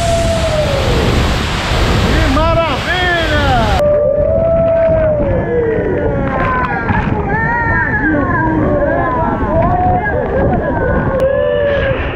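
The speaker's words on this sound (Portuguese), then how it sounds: "até chegar embaixo da queda d'água" São Romão waterfall roars at close range as a dense, steady rush of falling water. A voice speaks over it and birdlike chirps rise and fall through it.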